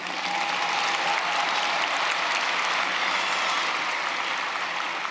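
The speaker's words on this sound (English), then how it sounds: "Please give them a round of applause." Audience applause at a 2022 graduation ceremony in a large venue, a thick, sustained roar of many hands clapping at an even level from start to finish.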